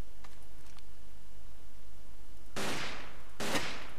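Two sharp gunshots from the first-person shooter Ace of Spades, in a winter soldier setting, ring out close and loud, spaced about a second apart, after a stretch of quiet game ambience.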